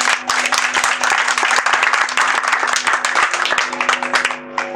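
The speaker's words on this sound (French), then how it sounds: "je souhaite qu'on applaudisse" A crowd at a political gathering claps vigorously, a lively burst of many hands with a faint hum underneath, loud and close for nearly five seconds before tapering slightly.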